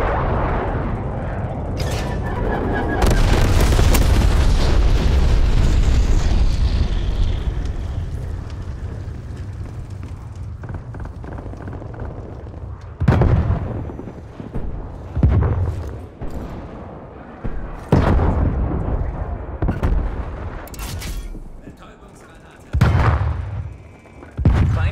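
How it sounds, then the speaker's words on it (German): A napalm strike in the video game Call of Duty Black Ops Cold War starts with a long, loud roaring blast. A string of heavy booms and bangs follows at irregular intervals amid multiplayer battle noise, with no talking. "Feindlicher Napalmangriff im Anflug."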